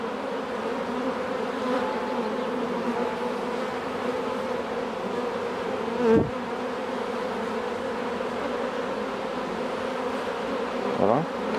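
Bees buzz in a dense, continuous drone while a beehive is opened and inspected, close and steady throughout with no talk.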